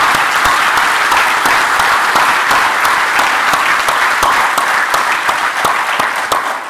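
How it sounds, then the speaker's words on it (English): A summit audience applauds Senegal's President Macky Sall with loud, sustained clapping from a large crowd, dense and continuous throughout, fading slightly near the end. "Please join me in applauding His Excellency President Macky Sall"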